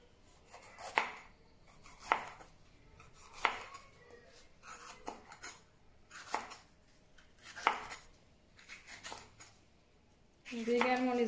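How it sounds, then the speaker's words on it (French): A knife slices bell peppers into rings on a cutting board for a Moroccan fish tagine, with about nine sharp, regularly spaced cuts against a quiet background and a brief clatter at the end. "je viens couper des rondelles de poivrons."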